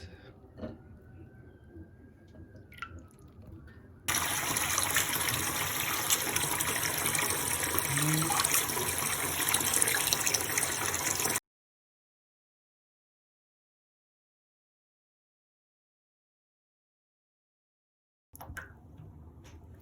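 Irish moss being rinsed under a running kitchen tap, a loud steady gush of water for about seven seconds that stops abruptly, followed by silence and a brief faint splash at the end.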